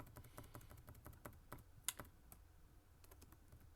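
Keys are tapped on a computer keyboard as text is edited and deleted, giving quiet, irregular clicks in short bursts with one sharper click partway through.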